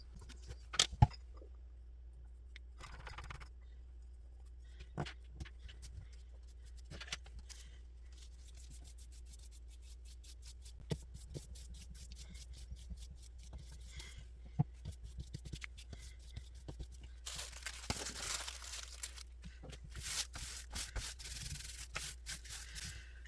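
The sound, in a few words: applying Mod Podge and smoothing tissue paper down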